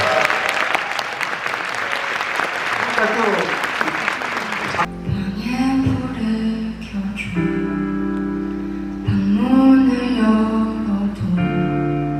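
An audience at the 30th Yoo Jae-ha Music Competition applauds to welcome the judges, with dense, steady clapping filling the first five seconds before it cuts away to a voice over softer background sound.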